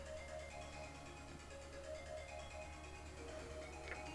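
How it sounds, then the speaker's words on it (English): A phone ringing nearby with a steady electronic ringtone melody, faint and continuous over a low background hum. "I'm gonna wait for that phone to finish."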